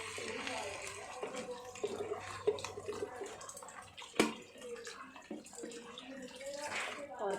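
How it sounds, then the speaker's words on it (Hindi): Water poured into a pot of jeera rice with fried potatoes, a gurgling splashy stream under a voice talking throughout, with a sharp clank partway through. "जीरा राइस में पानी ऐड कर देते हैं।"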